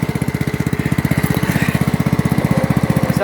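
Rough-running Homelite chainsaw engine idling unevenly, a steady rapid putter of firing pulses with a slightly irregular throb, close and loud throughout.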